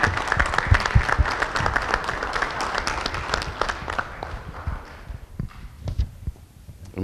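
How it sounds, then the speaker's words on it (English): A room of attendees at a school board public meeting gives a round of applause, loud and dense at first, then thinning into scattered, uneven claps after about five seconds. "we want to give her a big round of applause for that"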